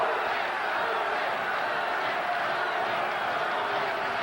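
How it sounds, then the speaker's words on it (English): Boxing arena crowd at Lennox Lewis versus Hasim Rahman, a dense, steady roar of many voices chanting Rahman's name, loud and continuous with no clear gaps. "The crowd is chanting Rahman, Rahman"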